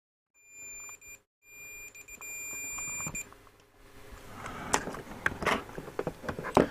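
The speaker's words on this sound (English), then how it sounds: "I could just look at the meter, but you know, it's easier with the beeper" A multimeter continuity tester beeps in steady high tones, several sustained beeps broken by short gaps, then clicking and handling noises of probes on a circuit board.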